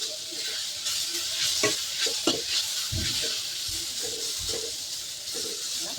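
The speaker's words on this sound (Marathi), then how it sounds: "किसलेला बटाटा टाकून चांगला मिक्स करून घेते" Grated potato is stirred in a cooking pan, with soft scraping strokes and bumps over a low, continuous sizzle.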